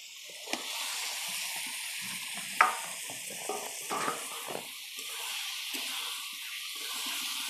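Potatoes and peas go into a pan of cooked-down spice masala, frying with a soft steady sizzle while a spoon stirs and scrapes, leaving a few clinks and bumps over the hiss.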